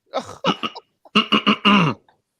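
Two bursts of harsh coughing from a man, a short pair and then a longer run of four or five hacking coughs, close and loud with no talk.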